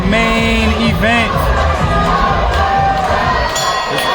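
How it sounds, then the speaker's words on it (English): A hyped crowd at a live Muay Thai event cheers, shouts and whoops loudly and continuously, with excited high voices rising above the steady roar throughout. "This crowd is hyped."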